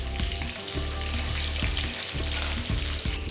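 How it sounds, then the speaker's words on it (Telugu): Dried red chillies and mustard seeds sizzle and crackle steadily in hot oil for a tempering, with green chillies and cumin in the pan. The frying is loud and close with occasional stirring clinks. "2 ఎండుమిరపకాయలు వేస్తున్నాను."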